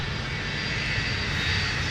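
Twin jet engines of a Sun Country Boeing 757-200 roar loudly and steadily at Minneapolis–St. Paul airport, a sustained broadband rumble with a high whine and no talking.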